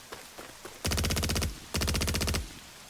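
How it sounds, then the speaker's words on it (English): Video game gunfire from Strategic Mind: The Pacific, heard as two loud, close bursts of rapid automatic fire, each lasting about half a second, separated by a short pause, with faint clicks before them. No distinct explosion stands out. "Eat that grenade, morons."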